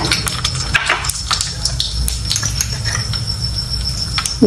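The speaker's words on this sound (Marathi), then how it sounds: "तेल घालूया मोहरी घालायचे अर्धा चमचा" Mustard seeds sputtering in hot oil while cooking an okra dish, a dense close patter of sharp little pops and crackles that runs on steadily over a low sizzle, with no talking.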